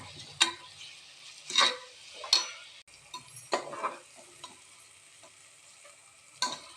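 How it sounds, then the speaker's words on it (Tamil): Quiet sizzling of garam masala frying in oil, with intermittent scraping strokes of a spoon stirring the pan at an unhurried pace. "நல்லா ஃப்ரை பண்ணிக்கலாங்க"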